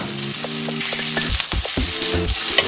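Roasted broccoli and cauliflower sizzle loudly with onions as they are tossed in a hot pan, a steady close frying hiss over background tones.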